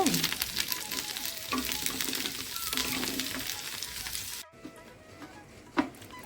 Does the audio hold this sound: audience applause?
no